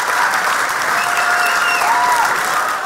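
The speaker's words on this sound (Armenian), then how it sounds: "ծափարությունը ողեցեք Սոնա Հեսանին, Սոնա Հեսան դեստուջեն, բարձր ծափերով գնացեք երեխեք ջան" Loud, sustained applause from an audience at an evening show for a dance studio, dense clapping throughout with faint background tones.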